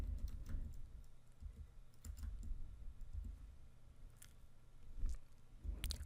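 Keys tapped on a computer keyboard while entering code, quiet irregular clicks in short bursts with small pauses, recorded close and alone.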